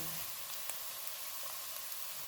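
Chopped onion and mixture sautéing in a pan on low-medium heat while preparing bread samosa filling, a faint, steady sizzle with soft stirring clicks throughout.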